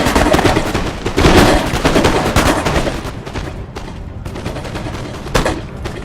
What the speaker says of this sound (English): Firing musket volleys.